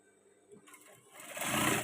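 A sewing machine bastes the pleats of a men's batik shirt, starting up from quiet handling noises and swelling into a brief, close, steady whir.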